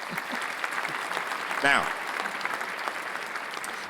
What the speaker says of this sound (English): Let's give a hand clap for that, man.